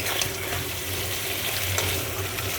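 Tomatoes frying in a hot pan with a steady, even sizzle throughout, close and constant with no talking.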